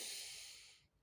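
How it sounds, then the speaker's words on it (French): One deep breath drawn in sharply through the mouth or nose, close and quiet, a soft airy hiss that fades out after about a second. "on prend une grande inspiration"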